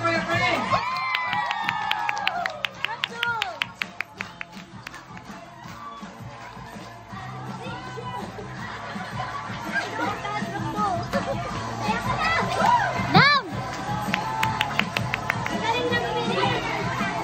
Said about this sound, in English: Come on, cheer for your friends.